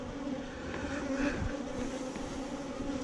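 Honey bees in a hive split hum steadily, a soft continuous drone with a slight swell of nearby buzzing midway, faint and without any voices.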